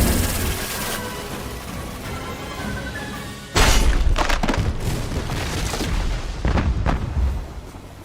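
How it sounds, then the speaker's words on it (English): Cannon fire from the Kung Fu Panda 2 showdown scene, a sudden heavy boom followed by a dense run of loud blasts, cracks and shattering impacts with no talk. "Po goes up against Shen alone and manages to redirect his cannon fire"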